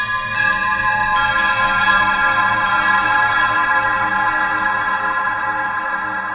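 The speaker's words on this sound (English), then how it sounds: "let's put like bell effects." Bell effect from a ROLI Equator 2 synth rings out in sustained, shimmering bell tones with repeated soft strikes, steady and fairly loud throughout, with no talking.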